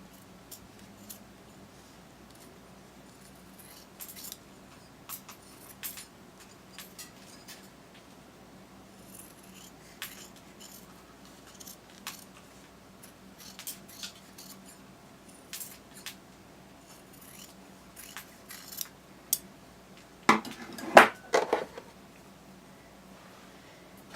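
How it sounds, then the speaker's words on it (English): Scissors snip away excess seam allowance on a small sewn dragon plush: soft, sparse cuts and light fabric rustling at a distance, building to a louder burst of handling noise near the end. "I'm going to go ahead and trim this excess seam allowance once again"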